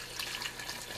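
Water pours steadily for about a second into a pot of onion soup with beef base, a soft continuous splashing gush close by, with no talking.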